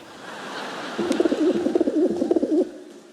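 A pigeon coos in a steady, rhythmic series of low throaty calls, close by, over a soft background hiss.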